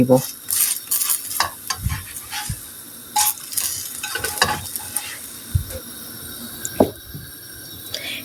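A potato and flour pancake with greens, onion and garlic frying in a pan, heard as a soft sizzle broken by irregular stirring scrapes and clinks of a utensil against the pan.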